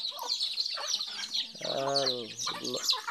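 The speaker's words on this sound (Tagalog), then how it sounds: "pakain mo ng manok" Chickens clucking close by, a few short clucks and one drawn-out squawk, lively and near, with no speech.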